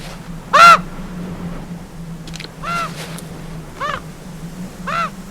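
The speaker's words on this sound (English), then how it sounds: "The raven can't beat the fox" A raven caws in a forest, giving about five harsh, separate calls spaced a second or so apart, fairly close, over a quiet, low background hum.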